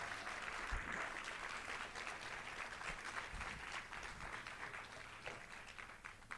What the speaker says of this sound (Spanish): ¿Cuántos pueden dar un aplauso fuerte en esta mañana al Señor?